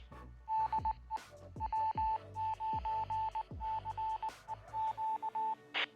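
A Baofeng UV-5R Mini handheld radio sends a rapid string of keypad beeps to a repeater, short evenly spaced tones with brief gaps and a few deeper thumping pulses underneath, close and clear.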